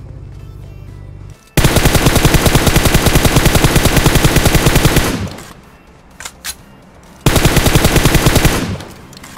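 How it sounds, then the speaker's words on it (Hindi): Machine guns fire in PUBG Mobile, with loud, close sustained bursts of rapid shots. A long burst is followed by a brief lull with scattered shots, then another sustained burst. "पीछे से मुझे गोलियां चलने की आवाज आती है"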